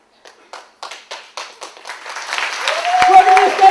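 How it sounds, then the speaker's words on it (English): Audience members at a DMU Footlights student stage show start with a few spaced, rhythmic claps that quickly swell into loud, steady clapping along, joined by a voice or musical tone in the final second. "So after 3, clap, clap, clap, clap, then everybody join in."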